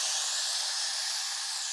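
Tomatoes hit a hot tempering for pepper rasam, giving a steady, loud, bright sizzling hiss that holds evenly for a couple of seconds with no talk.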